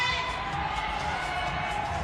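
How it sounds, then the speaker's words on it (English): Spectators at a lead climbing competition cheer a climber on, a dense, steady roar of shouting voices with a commentator talking over it. "The crowd sense it and cheer him on."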